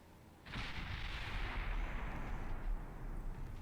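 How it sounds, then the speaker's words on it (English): The battleship HMS Warspite fires its guns in the naval game Ultimate Admiral Dreadnoughts. A heavy, booming broadside bursts in and then rumbles on as a long, loud roar. "Is Warspite still firing on the battlecruiser? Yeah, she is."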